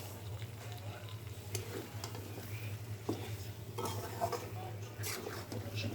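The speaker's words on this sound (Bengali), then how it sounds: "মাংসটা আমরা মশলার সাথে ভালো করে ভাজা ভাজা করে দেব" Chicken pieces frying with spices and a spoonful of soy sauce in a pan, giving a steady close sizzle broken by repeated scraping and clinking of a spoon stirring against the pan.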